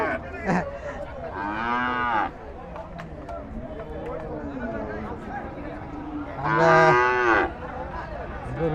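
At a busy cattle market in Kalampur, cows give two long, loud moos, one early and one late, amid crowd chatter and people talking nearby.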